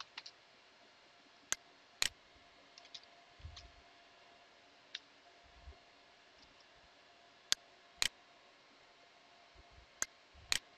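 A few isolated, sharp computer keyboard key clicks, sparse and fairly quiet, as a mkdir command is typed in a terminal against a faint steady background.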